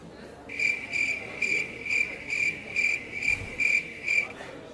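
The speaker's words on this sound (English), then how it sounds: "I much prefer the sound of crickets to chat" Cricket chirps from a video game's ambience, about nine evenly spaced bursts of bright, pulsing trill repeating roughly twice per second, steady and fairly loud over a low background hum, with no talking.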